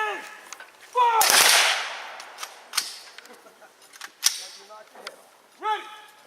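A shouted command at a historical reenactment is followed by a single loud, crackling rifle volley. The blast fades over a second, then a few scattered shots and clicks follow, and more voices call out near the end.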